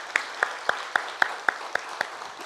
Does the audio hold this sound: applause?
yes